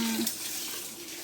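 Rice being washed in water in a home kitchen for coconut rice, a short close swishing and splashing wash with a faint steady hiss underneath, no voices.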